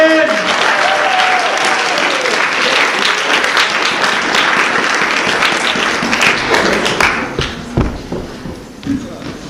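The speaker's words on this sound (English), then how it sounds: "let's give Rachel a round of applause" Loud, dense applause from the audience at an improv comedy show carries on steadily for about eight seconds, then thins into scattered claps and shuffling.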